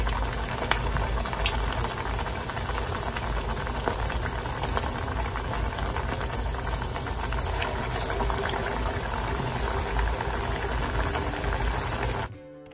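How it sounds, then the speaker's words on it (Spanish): Potato and tuna patties frying in a pan of plenty of hot oil, a steady close crackling sizzle with dense popping that runs continuously and cuts off near the end. "Aquí tengo un sartén con suficiente aceite. Y voy a ir agregando las tortitas."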